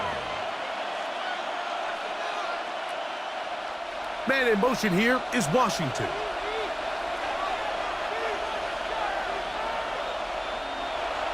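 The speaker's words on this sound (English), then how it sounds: "This crowd into it now as we get to 3rd down." A stadium crowd in a Madden NFL 26 simulation of the Jaguars vs. Patriots AFC Championship keeps up a steady roar and swells briefly louder under a play-by-play commentator's voice.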